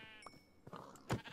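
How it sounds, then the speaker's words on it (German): Sheep in the Minecraft video game give a few short bleats, faint and brief, with a louder bleat near the end of a very short stretch. "So, ich töte die Schafe jetzt."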